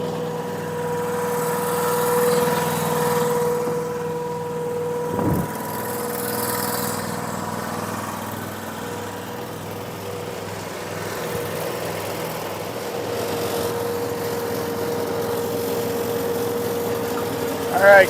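A small tractor idles at a firewood-splitting site, a steady low engine hum with a constant tone that runs unchanged through the whole stretch, broken only by a brief thump partway in.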